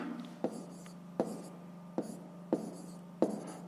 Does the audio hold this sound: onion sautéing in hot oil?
no